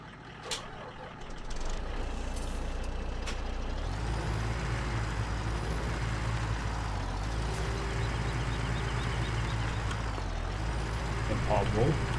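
Truck backing up in Farming Simulator 17 on a farm, a steady low engine drone with air-brake hisses and faint beeps, running continuously under speech.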